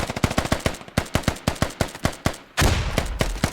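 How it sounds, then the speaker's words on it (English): Rapid automatic gunfire in a hectic firefight in the video game Squad, a steady string of close, sharp shots followed by a louder heavy blast. "This is turning into quite a hectic firefight."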